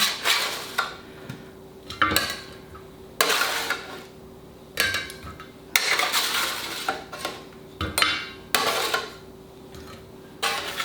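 Food from the oven set onto a metal serving tray during tailgate cooking: repeated sharp clanks and scrapes of utensils and pan against the tray, spaced every second or so, up close.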